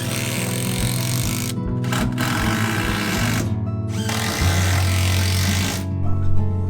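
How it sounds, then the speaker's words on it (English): Long screws are driven with a power driver into a wooden staircase stringer during a Japanese renovation. A loud, steady motor whine runs almost without break, with brief pauses and pitch shifts as each screw bites, and no one speaks. "I'll secure it with long screws"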